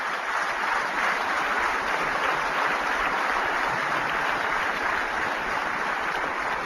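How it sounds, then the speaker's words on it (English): Steady applause from an audience honoring vaccination teams, a continuous wash of clapping at even volume for several seconds without speech. "I want to give them a big clap."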